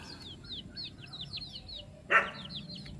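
Chicks peep in a quick repeated series against low background noise, with one louder burst partway through before the chirping resumes.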